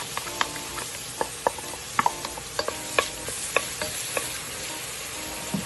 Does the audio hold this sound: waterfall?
no